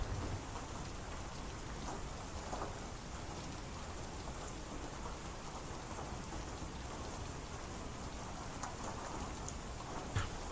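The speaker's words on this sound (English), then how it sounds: "that's the sound of the rain on the wing" Steady rain drumming on a metal aircraft wing in a flight simulator game, a dense even patter with occasional louder drops and distant rumbling underneath, no voices.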